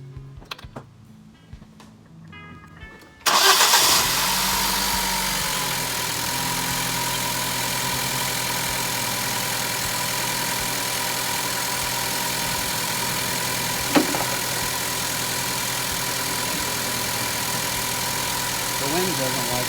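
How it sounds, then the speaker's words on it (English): A 2012 Ford Focus SE hatchback starts after quiet clicking and tapping, then settles into a loud, steady close idle that drones on alone, with one brief knock partway through. "we'll start the car"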